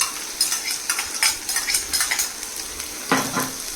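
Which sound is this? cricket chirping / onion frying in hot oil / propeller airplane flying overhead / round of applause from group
onion frying in hot oil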